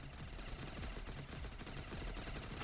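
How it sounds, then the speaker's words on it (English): A nail gun fired in a video game, a dense, loud stream of rapid repeated shots running steadily the whole time with no talking. "Guys, I got the nail gun."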